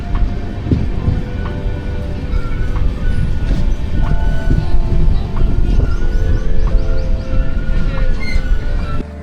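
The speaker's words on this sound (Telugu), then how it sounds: "ప్లాట్ఫామ్ నెంబర్ 1 మీదకి అయితే వెళ్తుంది ఇప్పుడు ట్రైన్." A passenger train on the Repalle to Secunderabad route pulls into platform number 1, a loud, close rumble of wheels with rhythmic clatter over rail joints and occasional high metallic squeals, steady and continuous.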